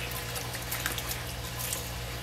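Water is poured onto curing salt and spices while making venison jerky, heard as a quiet, steady trickling wash over a constant low hum.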